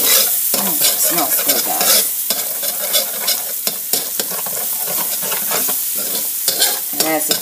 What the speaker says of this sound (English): We're going to fry our tomato paste